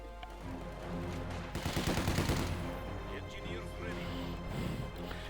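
Machine gun fire in Company of Heroes 2, a World War II strategy game, rattling in dense bursts amid steady battle noise and low rumble throughout, moderately loud and continuous.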